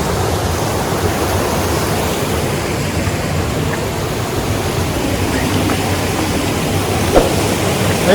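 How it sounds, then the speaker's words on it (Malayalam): A small waterfall along the route to Jogini Falls near Manali, a steady broadband rush of falling water heard close and loud without a break, no voices. "ചെറിയൊരു വെള്ളച്ചാട്ടമുണ്ടേ. ആ ജോഗിനി വാട്ടർഫോളിന് വരുന്നേ"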